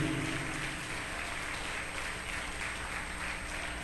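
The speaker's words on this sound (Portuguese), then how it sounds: "Então uma salva de palmas bem forte para Jesus." Steady applause from a church congregation at a worship service, moderately distant and continuous, with a washy, rain-like texture and no one speaking over it.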